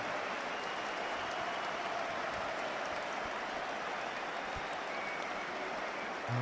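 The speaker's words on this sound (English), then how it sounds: "the Emirates applauding" A stadium crowd at the Emirates applauds during an Arsenal v Real Madrid Champions League quarter-final, a dense, distant, steady wash of clapping and crowd noise.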